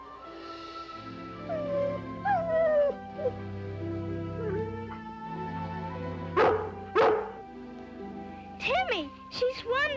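Lassie, a cartoon collie, giving a few sharp barks and yips near the end, following whimpering, rising whines, all set against a steady musical score.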